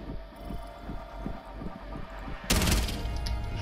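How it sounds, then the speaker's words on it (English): Gunfire in Rainbow Six Siege shot through a soft wall, a rapid series of shots followed by a loud sudden burst of impact noise, with game ambience underneath. "I randomly shot through the soft wall"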